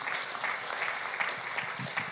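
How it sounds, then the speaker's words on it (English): A church congregation claps hands in praise during a service in the Philippines, a steady dense crackle of many hands held at an even level for the whole stretch, with no voices rising above it. "let's give God a hand clap of praise tonight."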